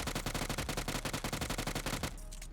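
Rapid automatic gunfire in the battle game PUBG, a loud sustained burst of evenly spaced shots for about two seconds that stops abruptly, leaving faint background game sound.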